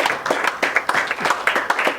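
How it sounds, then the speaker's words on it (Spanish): A church congregation claps together in a rhythmic beat at a worship service, loud, close hand claps in a regular pulse of roughly four or five per second. "Denle un aplauso al Señor."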